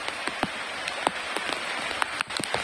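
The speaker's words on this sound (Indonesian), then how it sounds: "Hujan lebat." Heavy rain pours steadily onto a bamboo shelter at a campsite during a thunderstorm, a dense continuous hiss with scattered sharper drop impacts throughout.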